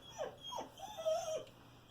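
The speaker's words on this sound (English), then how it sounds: "Sorry, that's my dog." A dog whimpers close by, a few short falling whines and a longer high whine within two seconds, faint over quiet room hum.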